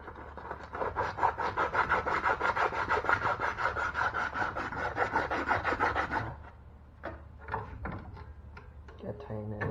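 A wooden crankbait fishing lure is sanded smooth, giving a steady, close rasping rub for about six seconds, then a few scattered knocks and scrapes.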